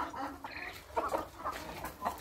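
Native country chickens and roosters of pure parent stock cluck softly on a farm, with several quiet overlapping clucks.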